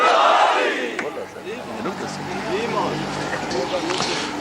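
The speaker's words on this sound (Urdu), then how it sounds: "دونوں ہاتھ بلند کر کے نعرے حیدری حیدری" A large religious gathering at a Shia majlis chants a loud, rhythmic Haidari slogan with raised hands, the massed voices rising in repeated surging cries that swell early and continue steadily.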